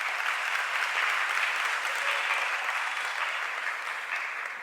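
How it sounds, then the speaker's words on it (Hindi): Listeners at a Jain religious discourse applaud in support, a broad sustained roar of clapping from a large gathering, even and continuous, slowly tapering near the end, with no talking. "आपकी तालियां समर्थन है इस बात का।"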